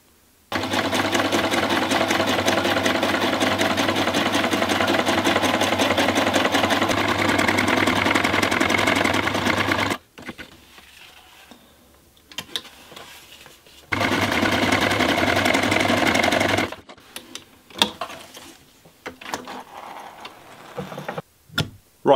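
A sewing machine stitches a waxed canvas pouch, running loud and steady for about ten seconds, then again in a shorter burst after a pause, with faint handling noises between runs.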